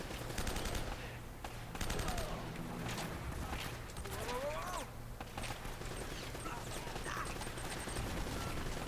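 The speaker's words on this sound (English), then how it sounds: "there are a lot of guns that are all shooting at me" Many guns firing at the player in the video game Uncharted: Drake's Fortune, with rapid, repeated bursts of gunfire and impact clatter over several seconds, mixed with game effects and some talking.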